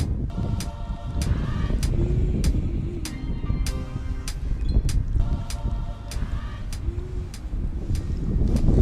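Wind blows across a back bay during jig fishing, heard as a constant low rumble and buffeting on the microphone, broken by evenly spaced sharp ticks.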